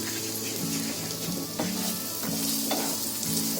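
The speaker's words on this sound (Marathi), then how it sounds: "इथे आपला कांदा मिरची पण चांगला फ्राय झालाय." Onion and green chili frying in a pan for chicken patiyala, a steady close sizzle with faint stirring and scraping and no talk.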